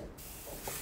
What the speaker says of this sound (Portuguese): Ela tá espirrando no cabelo um spray de fixação extra forte.